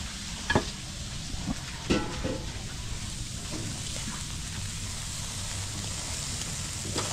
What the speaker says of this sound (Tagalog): sinampalukan manok na tayo sa bawang sibuyas habang nagpiprito si Kapitan Anton.